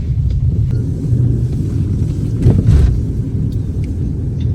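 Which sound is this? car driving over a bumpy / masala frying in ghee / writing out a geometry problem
car driving over a bumpy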